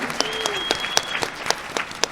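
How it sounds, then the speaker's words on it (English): A small audience at a scholars' panel meeting claps in a loose, sparse rhythm, distinct individual claps spaced about a quarter second apart, with a soft tone or whistle briefly sounding underneath. "give a round of applause for Chicago"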